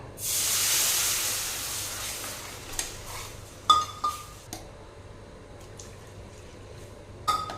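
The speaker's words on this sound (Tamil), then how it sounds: "இப்போ இந்த கப்பில் வந்து ரெண்டு கப் பால் சேர்த்திக்கலாம்" Milk poured into a hot pan of sautéed maida gives a broad sizzling hiss that swells at the start and then fades, followed by a few light clinks of a utensil against the pan.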